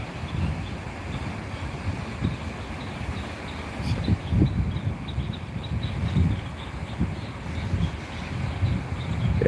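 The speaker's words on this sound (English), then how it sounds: "Got the wind blowing this way with a little bit of moisture in the air." Moist outdoor wind blows steadily across the microphone near a bay, a continuous broadband rush with low gusty swells and no speech.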